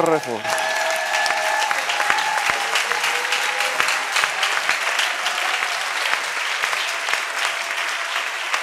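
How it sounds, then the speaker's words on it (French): A church congregation applauds and cheers for Jesus, dense sustained clapping from a crowd in a hall with voices calling out, loud and continuous throughout. "lève-toi, acclame Jésus très fort"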